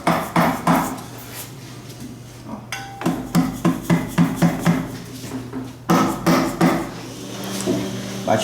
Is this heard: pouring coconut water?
no